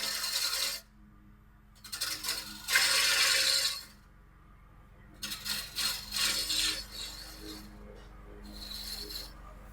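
Sandpaper rasps against a wooden bowl, likely as it spins on a lathe, in several bursts of gritty scraping with quiet gaps between, close and fairly soft.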